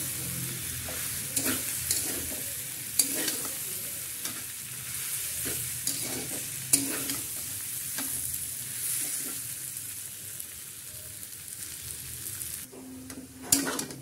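Boiled potato chop masala with salt sautés in a pan, giving a steady close sizzle broken by repeated scraping and clinking as it is stirred.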